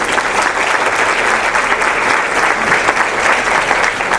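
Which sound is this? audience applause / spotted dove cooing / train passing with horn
audience applause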